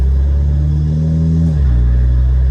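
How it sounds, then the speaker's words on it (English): A Volkswagen GTI's turbocharged engine, fitted with a JB4 tune and new downpipe, drones loudly at a steady pitch, then drops as the revs fall, with a deep rumbling exhaust tone throughout. "you can hear it makes all types of turbo noises"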